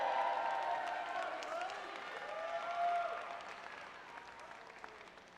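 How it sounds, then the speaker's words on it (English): A crowd at a UCLA student-athlete graduation claps together, a fairly quiet spread of applause with voices and some cheering mixed in, fading a little toward the end. "we got to do an A-clap"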